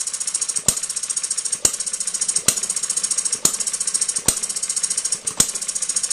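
A small hit-and-miss model engine runs alone and close, its rapid even chuffing broken by a sharp firing bang roughly every second in a steady repeating cycle.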